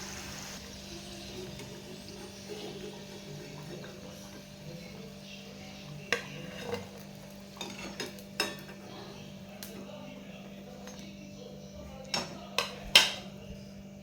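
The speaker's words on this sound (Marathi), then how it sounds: "आपले मोदक व्यवस्थित तळले गेलेले आता आपण हे काढून घेऊया" Wheat-flour modaks are lifted from hot frying oil, a steady low oil bubble underneath while a slotted spoon clinks against the metal kadai in a few sharp taps, mostly in the second half.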